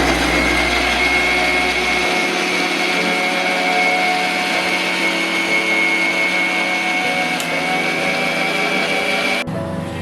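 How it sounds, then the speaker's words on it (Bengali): A mixer grinder grinding ginger, garlic and chili to a paste whirs loudly and steadily with a high motor whine for about nine seconds, then cuts off abruptly. "রসুন আর লঙ্কাটা পেস্ট করে নিচ্ছি মিক্সার গ্রাইন্ডারে"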